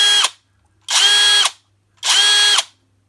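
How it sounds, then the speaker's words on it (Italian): A Parkside Performance 12V cordless drill driver (Lidl PBSPA 12 A1) runs in three short, loud whirring bursts, each cut off abruptly by the quick-stop chuck brake, with near silence between them. "il sistema quick stop, quindi il sistema che blocca il mandrino al rilascio del tasto ed è un blocco immediato"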